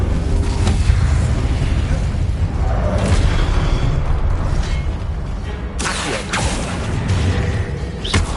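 A loud, roaring fire spell burst from Hogwarts Legacy, cast as Incendio, with heavy rumbling booms and crackling blasts layered over dense game sound, swelling again near the end.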